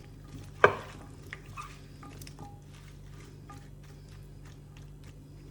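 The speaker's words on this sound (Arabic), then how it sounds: "ونخلطو داكشي مزيان تيدخل داك العطريه مع الخضره" Chicken with herbs and vegetables is stirred in a pot, giving soft scraping and gentle patter, with one sharp knock near the start and a low simmering hiss underneath.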